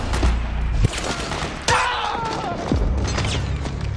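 Gunfire and explosive thuds from a chaotic battle in Metal Gear Solid 4: Guns of the Patriots, with sharp impacts and a dense, continuous battle din, plus a shrill whistling streak partway through.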